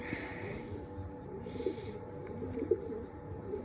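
Pigeons cooing in a loft with a few soft, low coos over faint background noise, close and quiet with no talk.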